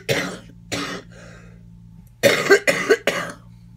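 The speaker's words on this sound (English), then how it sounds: "some days I smoke more and I cough more" A smoker coughs in several harsh, close bursts: two separate coughs, a pause, then a rapid cluster of three, with a low steady hum underneath.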